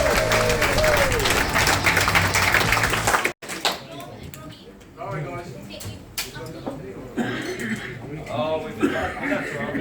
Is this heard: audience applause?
yes